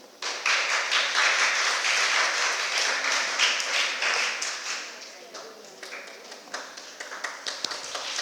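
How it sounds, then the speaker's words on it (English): Audience applause at a gender and media workshop at a women's college swells into a steady wash of clapping, then thins into scattered claps near the end. "Please give a round of applause."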